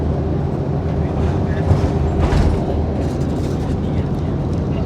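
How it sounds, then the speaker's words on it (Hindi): An Islamabad metro train passing near the PIMS station, a loud continuous rumble and roar of rolling cars that swells in the middle, with a voice talking over it. "पीछे मेट्रो जा रही है"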